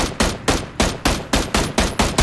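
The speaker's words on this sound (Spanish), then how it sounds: "Mira dónde estoy disparando" Gunfire in a shooter video game: a fast run of about eight loud, evenly spaced shots cracking close with no voices over them.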